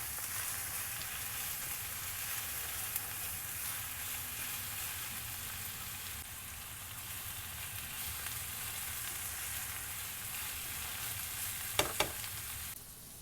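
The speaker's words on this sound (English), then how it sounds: "I'm just going to stir up the garlic and onions together here on a medium to high heat" Garlic and onions frying over medium-high heat in a pan, a steady close sizzle running throughout, with a couple of sharp utensil clinks near the end.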